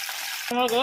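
Cluster beans dropped into hot oil in a kadai, a steady hiss that swells into louder crackling sizzle halfway through, close and short.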